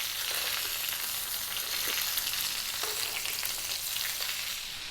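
A bone-in ribeye steak spits and sizzles in a hot pan while being basted, a dense constant frying crackle with faint spoon taps, fading slightly at the end, no speech.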